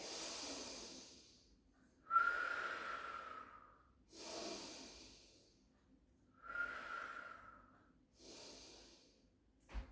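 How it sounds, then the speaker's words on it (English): Deep breathing during a Pilates exercise, slow audible inhales and exhales in an even rhythm of about four breaths, close and quiet with a faint whistly edge. "Take a breath in."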